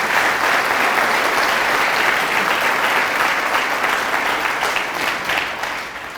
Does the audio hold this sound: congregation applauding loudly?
yes